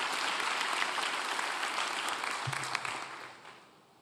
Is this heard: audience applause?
yes